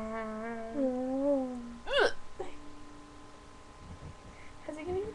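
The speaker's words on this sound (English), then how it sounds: "I don't like the hiccups." A person hiccups once, a sharp sudden gulp standing out between stretches of a child's sing-song, whimpery voice and some talk.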